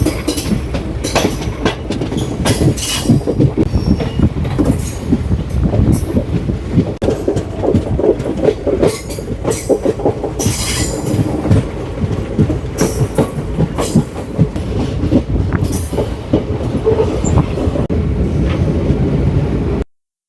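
The 15670 Nagaland Express passenger train runs on rails between Dibrugarh and Guwahati, with loud, steady rumbling and repeated rhythmic clickety-clack of wheels over rail joints, heard close from on board, with no talking.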